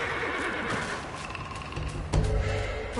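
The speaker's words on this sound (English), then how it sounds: "The horse noise is somewhat odd." A horse whinnies in the action game Black Myth: Wukong, a clear neigh over busy game ambience and music, with a louder shuffling thump near the end.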